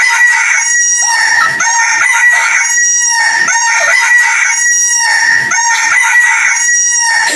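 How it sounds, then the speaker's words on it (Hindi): A chicken crows and clucks loudly and close by, repeated harsh calls in a steady rhythm with no pauses, and no talking heard. "ये मुर्गी क्यों भौंक रहा है?"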